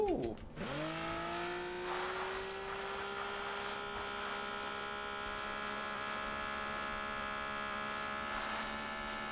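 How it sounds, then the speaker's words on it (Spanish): A motorcycle engine in the video game PUBG revs up and then holds a steady, buzzing drone at constant pitch, loud and close throughout. "Puta que mete bocha esta moto culia."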